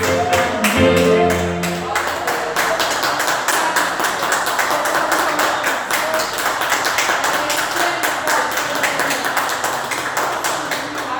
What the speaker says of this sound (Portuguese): E as palmas louvam a Deus